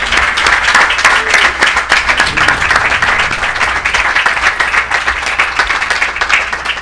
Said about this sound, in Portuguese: Can you applaud the Lord?